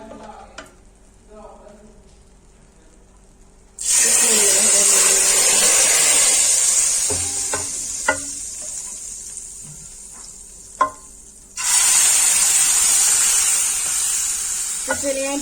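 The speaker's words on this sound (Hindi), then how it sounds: "तड़का हमारा रेडी है। ऐड कर देंगे मसर में।" A hot tadka hits a pot of masoor dal and sets off a loud, close sizzle that hisses for several seconds. A quieter stretch with a few clinks follows, then a second burst of sizzling.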